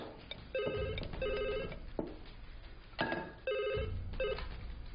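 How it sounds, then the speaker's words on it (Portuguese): A household telephone bell rings in bursts, with two double rings, each separated by a short pause, heard clearly in a quiet room with no talking. "Toda vez que o telefone tocava, eu tinha uma sensação ruim."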